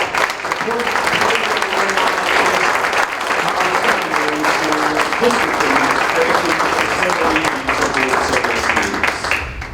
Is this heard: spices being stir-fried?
no